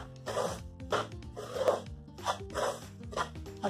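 Semolina roasting in ghee in a pan for sweet halwa, stirred with rhythmic scraping strokes that give repeated rasping bursts, close and moderately loud, with no talking.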